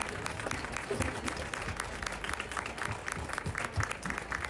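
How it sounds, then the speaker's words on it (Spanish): Applause from an audience honoring a guest at a book presentation during a book fair, steady crowd clapping at moderate distance throughout, with faint voices mixed in. "Un aplauso para Armando."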